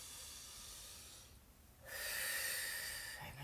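Deep breathing during an arm stretch exercise: a long breathy exhale fades, a short pause, then a strong hissing inhale swells up, close and clear with no talking.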